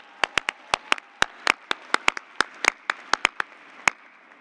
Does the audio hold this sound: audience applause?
yes